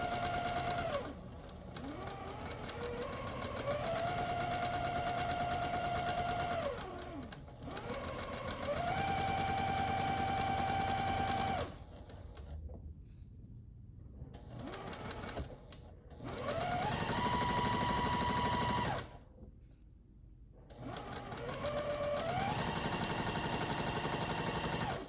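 Sewing machine chain-stitching half square triangle quilt pieces, rapid whirring bursts of stitching that start and stop repeatedly, with short quiet pauses and small handling noises between runs, close up.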